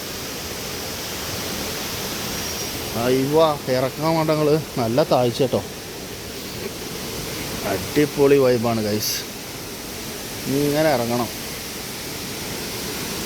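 Kalkundu waterfall at Karuvarakundu as a steady, broad rushing hiss of falling water close by, with a person talking over it in short bursts.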